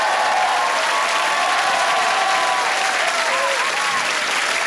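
A studio audience at a comedy show applauds loudly and steadily with some cheering mixed in, a dense, sustained roar of clapping throughout.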